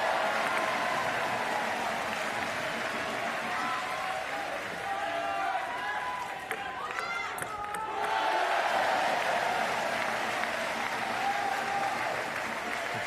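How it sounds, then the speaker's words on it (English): A French crowd at a Paris 2024 para table tennis standing doubles match keeps up continuous applause and cheering, with a brief lull midway before the noise swells again, a commentator talking over it. "French crowd really getting behind these two, almost now with every single point that goes their way"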